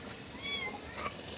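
Kittens give faint high meows, two or three thin cries amid quiet background noise.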